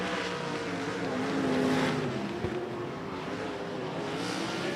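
Sprint cars from the Western Sprint Tour roar around the Sunset Speedway Park oval in a steady engine drone that swells briefly as the pack passes nearby, then settles into a sustained distant rumble with no voices.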